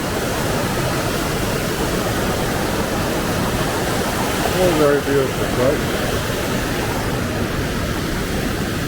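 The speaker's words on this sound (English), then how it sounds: "Bit of noise from the river, but you know, it's beautiful." The loud river in Kirk National Park rushes in a constant, dense roar that fills the whole scene, while someone speaks briefly over the water.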